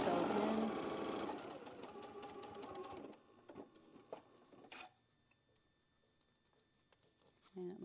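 A sewing machine stitches a quilt block in a fast, loud mechanical whirr for about three seconds, then stops, leaving light handling clicks and soft taps, with a short burst of motor at the end.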